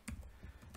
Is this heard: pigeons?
no